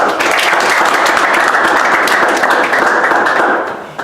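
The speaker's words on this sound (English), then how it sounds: "Give him a nice round of applause." An audience at a coaching talk gives a loud, close round of applause for a former player, steady dense clapping that holds for several seconds before tapering off at the end.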